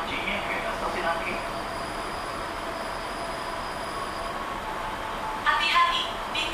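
A KRL commuter train at Angke station gives a steady interior rumble with faint high wheel squeal and a brief louder burst of noise near the end.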